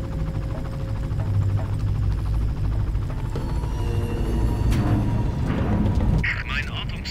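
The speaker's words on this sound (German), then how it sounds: "Und ich höre einen Hubschrauber." A helicopter in the Far Cry video game drones steadily in the background beneath game effects, with a person talking over it throughout.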